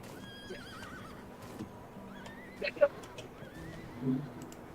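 A horse whinnies and snorts amid busy Roblox game sounds, with faint hoofbeats and low background noise; no talking.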